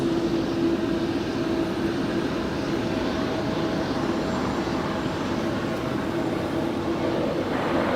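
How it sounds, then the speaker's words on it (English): A Spirit Airlines A320neo jet departing Los Angeles International Airport, a steady broadband engine roar with a faint tonal hum, sustained and distant across the airfield with no voices. "Our next departure is Spirit Airlines Flight 1200 heading to Dallas, Texas. It's an A320neo."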